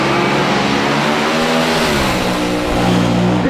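An AA/Fuel dragster at the NHRA California Hot Rod Reunion roars down the strip, a loud, close, sustained engine blare that holds steady with a brief dip and surge near the end.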